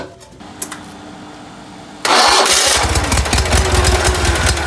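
A John Deere 317 tractor sits quietly at first, then its engine is cranked on the starter and roars into a loud, rapid, rumbling churn that holds steady.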